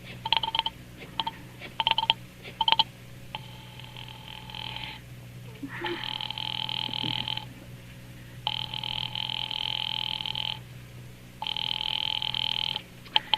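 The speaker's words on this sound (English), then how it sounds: "Ringing the police department." A telephone rings in long repeated bursts with pauses between them, steady and moderately loud over a low hum, preceded by a few clicks.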